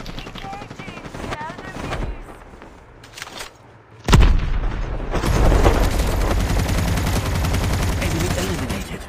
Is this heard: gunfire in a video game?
yes